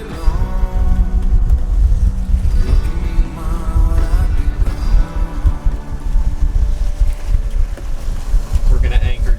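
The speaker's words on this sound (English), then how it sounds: "We're actually doing a bit of upwind sailing right now, unexpectedly." A sailboat beats upwind, with strong wind buffeting the microphone and water rushing along the hull, loud and steady throughout while someone talks over it.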